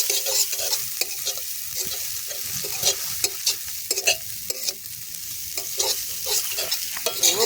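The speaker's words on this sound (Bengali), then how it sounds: "অনেকক্ষণ ধরে ভাজতে হবে।" Flattened rice (chira) fried and stirred in a pan, with a steady sizzle and repeated scraping stir strokes close by throughout, and no talk.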